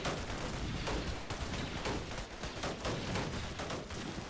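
Gunfire aimed at a bunker in the Roblox game TC3, a dense, continuous barrage of rapid shots that stays loud and unbroken throughout.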